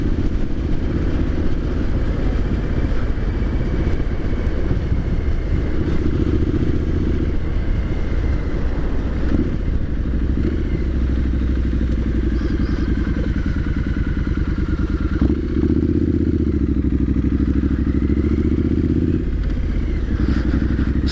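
A Triumph Street Scrambler 900 motorcycle on a short test ride, its engine a loud, steady rumble throughout with wind buffeting and occasional clattery bumps from the road.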